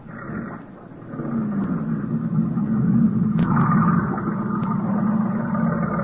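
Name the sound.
motorboat engine starting up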